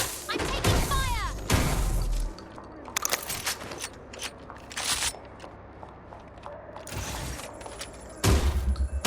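Gunfire in the video game Watch Dogs Legion, with several sharp broadband bursts scattered through the scene, some close and loud and others softer, over steady game ambience and occasional voice.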